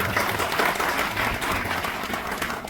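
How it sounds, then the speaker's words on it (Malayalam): An audience at a stage event featuring a singer breaks into dense, continuous applause, many hands clapping together in a steady wash of sound. "ചങ്കൂറ്റം കാണിച്ച ജോയ് മാത്യുവിന് വേണ്ടി ഒരു കൈയടിച്ചുകൊണ്ട് നമുക്ക് അറിയാം"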